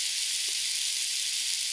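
Chicken strips with spices fry in a frying pan, giving a steady, close hiss of sizzling oil with no voices.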